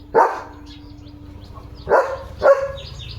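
A German Shepherd barks three times close by, a single bark followed by a pause and then two more in quick succession.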